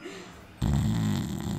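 Snoring close by, a low rumbling snort that bursts in suddenly and then drones on steadily, loud and alone.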